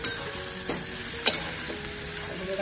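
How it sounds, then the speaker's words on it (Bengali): Cauliflower and spinach curry with white sesame sizzles steadily in a pan, with a spoon scraping and stirring at a few points, close and alone. "কষা হচ্ছে"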